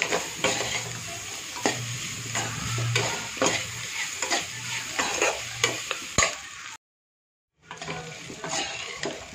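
Boiled, cut potatoes fry in oil with masala while a spoon stirs them, giving a steady close sizzle broken by rhythmic scraping strokes. The sound cuts out briefly near the end, then resumes.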